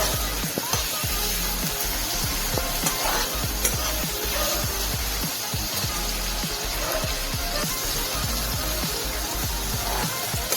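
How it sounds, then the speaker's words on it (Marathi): Chopped tomato sautéing in a pan for bhindi masala, a continuous loud sizzle broken by frequent spoon knocks and scraping strokes throughout, with no voices. "टोमॅटो परतवून घ्यायचा"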